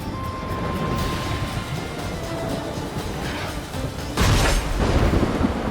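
A thunderstorm in The Witcher 3, a constant dense rumble of rain and wind with a louder roll of thunder swelling toward the end.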